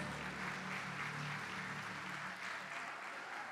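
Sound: applause

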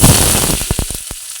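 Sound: shallots and garlic frying in oil for shellfish roast

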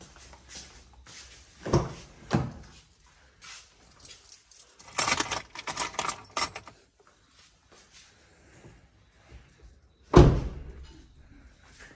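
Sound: keys jangling

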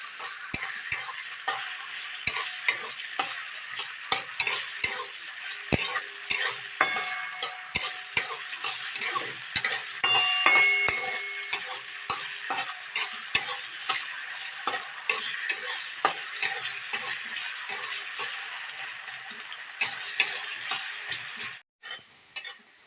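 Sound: potatoes frying in oil

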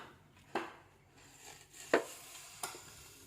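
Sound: chopping banana stem

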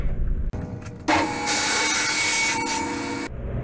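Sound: table saw cutting a wooden profile

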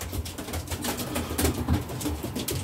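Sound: racing pigeons cooing in loft

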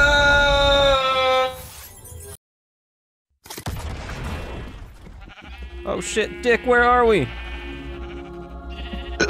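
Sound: sheep bleating in Minecraft video game

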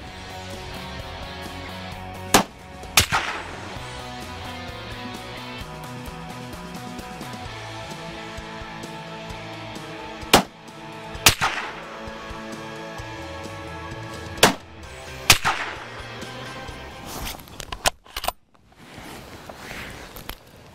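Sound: Remington 700 VTR rifle firing a three-round group

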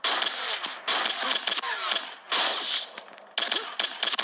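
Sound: gunfire in video game Sierra 7

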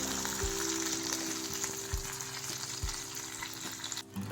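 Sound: curry leaves and sesame seeds frying in oil

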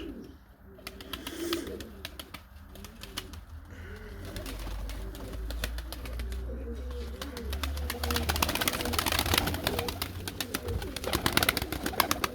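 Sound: young pigeons taking off and landing

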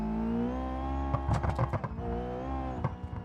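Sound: drag car engine accelerating in video game BeamNG.drive

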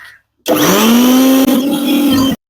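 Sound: mixer grinder blending turmeric powder, lime juice, slaked lime and ghee

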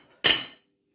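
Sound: low-carb microwave bread placed onto a plate

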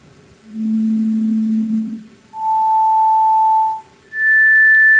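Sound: individual pure tones played in a cochlea demonstration

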